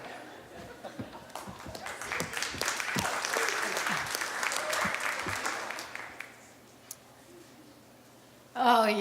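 A live audience at an evening comedy show breaks into lively applause with scattered sharp claps, building and holding for several seconds before fading out, then a voice speaks at the end.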